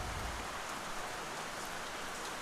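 Steady rain falling at an outdoor fishing tournament, a dense, even hiss of drops on surfaces, loud and constant with no voices.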